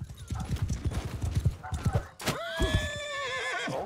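In Mount and Blade II: Bannerlord multiplayer siege, a horse's hooves clop in a quick, uneven rhythm, then the horse lets out a long, loud whinny; a player talks nearby.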